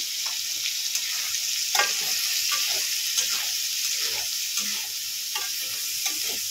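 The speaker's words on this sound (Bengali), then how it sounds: "লাল লাল করে ভেজে নেব সয়াবিনটা" Soybean chunks frying in a pan: a constant, close hiss of sizzling oil with faint scrapes from stirring scattered throughout.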